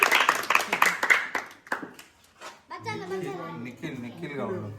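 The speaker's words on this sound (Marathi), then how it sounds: "हा हे टाळ्या वाजव ना जरा." A burst of quick hand claps sounds close at the start, fading into a few scattered claps before people talk.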